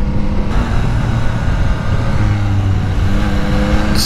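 A 2022 Yamaha XSR900 motorcycle engine pulls hard under acceleration, a loud, dense, steady roar with rushing wind, heard close with no talking.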